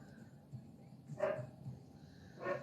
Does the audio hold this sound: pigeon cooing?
no